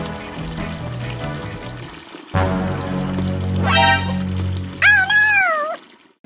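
Water runs from a tap into a bath in a steady stream that stops near the end, with a squeaky, animated cartoon-like voice cutting in over it.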